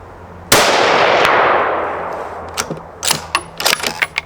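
A single loud, close rifle gunshot, a hunting or precision rifle shot at a range, cracks sharply and rolls into a long echoing decay, followed by several quieter clanks and handling clicks.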